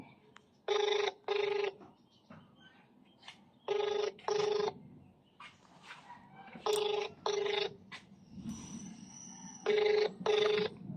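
A telephone rings out in paired electronic bursts, four double rings spaced evenly apart, loud and close against a quiet room with faint background noise between them.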